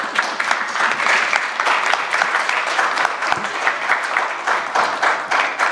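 An audience in a hall at a literature festival breaks into loud, dense applause, many hands clapping steadily and close for several seconds.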